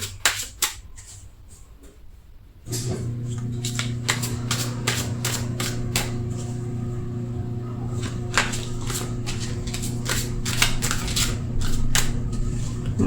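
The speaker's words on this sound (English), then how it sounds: "As I'm shuffling" Rapid, repeated riffles and flicks of shuffling tarot cards, crisp and close, over a steady low hum.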